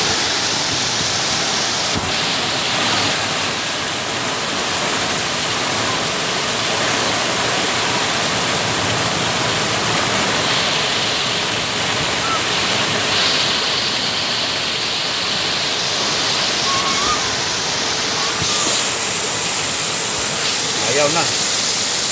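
Loud, steady rush of floodwater pouring and churning close by, a dense unbroken roar lasting throughout, with occasional faint voices beneath it.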